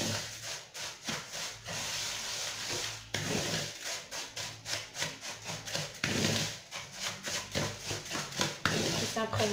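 Couscous grains are stirred with olive oil in a bowl, giving repeated close scraping and rubbing strokes in an uneven rhythm with short pauses.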